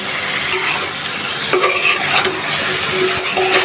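Potatoes and pointed gourd are stir-fried in a pan, with a close steady sizzle broken by several sharp spatula scrapes and clinks against the metal, no voices.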